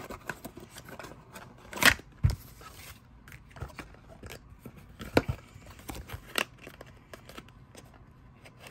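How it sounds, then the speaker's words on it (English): Tarot cards shuffled by hand, soft irregular riffles, slides and taps up close, with a couple of sharper flicks standing out against a quiet background. "I just want to shuffle everything."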